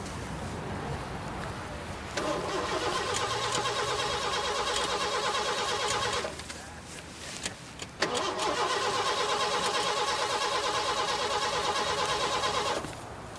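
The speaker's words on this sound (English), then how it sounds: "the car won't start" A car starter cranks in two long bursts of steady, whirring churning, each several seconds, separated by a short pause, close and loud, with the engine never catching.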